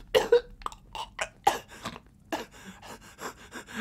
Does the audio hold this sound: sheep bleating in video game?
no